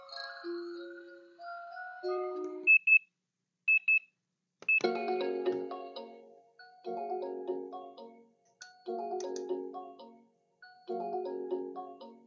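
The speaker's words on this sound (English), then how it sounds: "It's got five different tones for the alarm as well." A Hearkent talking atomic clock plays alarm tones: first a short melodic sequence of electronic beeps, then a few sharp double beeps, followed by a repeating chirping electronic chime pattern in regular bursts, clear and close with silence between.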